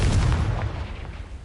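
A deep, rumbling blast of the Confringo spell in Hogwarts Legacy rolls out heavy and booming, then fades over a second and a half.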